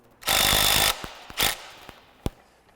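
A tension block on a Selkirk LABS 001 Pro net is tightened with a burst of harsh ratcheting, a shorter second burst, and a few sharp clicks and taps after, close and without voices.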